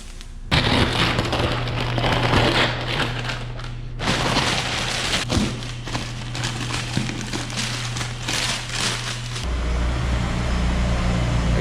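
A low-slung freshly painted car is driven out of a paint booth, its engine idling with a steady low rumble and revving at moments, joined by clattering and rattling knocks, with a change in the engine tone near the end.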